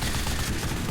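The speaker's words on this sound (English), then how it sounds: "it's a machine gun. Those are machine guns." Short, dense burst of aircraft machine-gun fire from a P-47 or Tempest Mk V in a video game, loud and harsh, firing in rapid succession with no pause.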